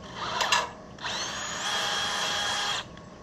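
A power drill with a quarter-inch bit whirs steadily for a couple of seconds after a brief burst, close and loud, then winds down to quiet, during repairs on a White 4-150 tractor.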